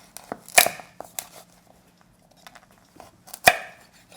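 A knife cuts into the shell of a chestnut being peeled for braised beef short ribs, giving a few sharp, close chopping cracks spread across a quiet kitchen, with the loudest cuts near the start and end.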